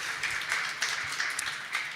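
An audience at a cooperatives conference claps in a soft, even patter that holds steady, with no talk over it.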